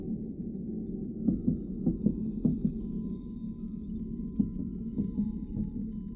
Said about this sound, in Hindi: मुझे अभी भी दिल की धड़कन सुनाई दे रही है।